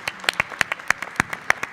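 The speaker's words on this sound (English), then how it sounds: "let's give our panelists here a rousing round of applause, especially our child delegates" Sparse, distinct hand claps at a children's forum panel, sharp individual claps spaced at an irregular, fairly steady pace rather than a full crowd, with a faint voice beneath.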